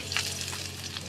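Torn bay leaf and chopped garlic frying in hot oil in a pan, a soft, steady sizzle with small crackling spurts, fairly quiet and close with no talk.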